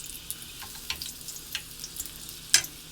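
Egg rolls fry in a Green Life pan with a low steady sizzle, punctuated by several soft pops and one sharper crackle near the end, with no talking.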